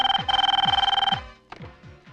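A telephone bell rings in a Telugu film scene, a loud trilling electronic ring that repeats in two close bursts before cutting off into quieter room sound.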